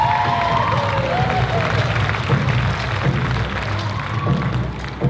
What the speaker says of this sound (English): How about a nice applause for Serrana Solia, everybody?